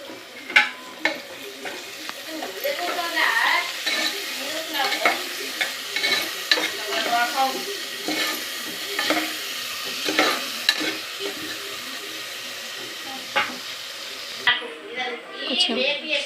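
Onions and green chillies fry and sizzle in hot oil for a chicken curry while a spoon stirs them steadily around the pan, with soft scraping and clinks throughout and a voice occasionally speaking over the cooking.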